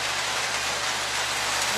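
Steady rain pours down over a boat under refit, a dense, even hiss of drops pattering on surfaces with no breaks, close and continuous, plus a faint low hum underneath.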